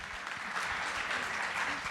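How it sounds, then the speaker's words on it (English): An audience at a Good Pitch Local Hawaiʻi community event applauds steadily, a dense, even wash of many hands clapping that holds for the whole two seconds. "Give a big round of applause for Leslie Wilcox."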